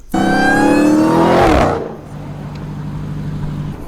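A Dodge Hellcat roars as it accelerates hard, its engine note climbing loudly for about a second and a half before dropping away abruptly to a low, steady idle-like hum.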